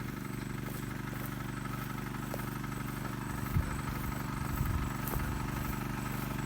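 A water pump engine runs steadily in a grassy signal-grass pasture, a continuous low mechanical drone with a fast rhythmic chug, close and even throughout with no talk.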